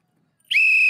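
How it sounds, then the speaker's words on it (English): A sharp, shrill whistle blast starts abruptly after a short silence and holds steady and loud to the end. "Where's my whistle?"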